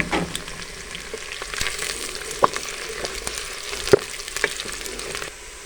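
Garlic frying in hot oil in a pan for Kashmiri dal, a continuous soft sizzle with crackles and a few sharper pops, close and moderately quiet, no talking.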